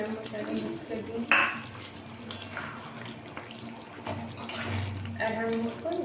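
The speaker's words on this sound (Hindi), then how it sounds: "गरम मसाले मिक्स कर दिए" Garam masala being stirred into Bihari-style mutton curry in a kadai: close metallic scraping, clinks of a spoon against the pan and soft wet sizzling bubbles, in intermittent strokes.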